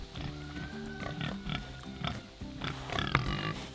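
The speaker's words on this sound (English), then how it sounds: "That is the boar." A boar on a homestead grunts repeatedly in short, rough bursts close by, with other livestock noises mixed in and a sharper squeal-like sound near the end.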